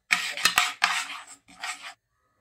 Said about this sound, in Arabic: نبقى نخلط فوق النار